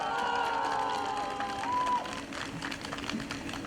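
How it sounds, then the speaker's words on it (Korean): A crowd at a Justice Party election rally in Anyang applauds and cheers for candidate Lee Jong-tae, a busy wash of clapping under sustained tonal sounds, louder at first and easing off. "우리 이종태 후보님께 다시 한번 큰 박수 부탁드리겠습니다"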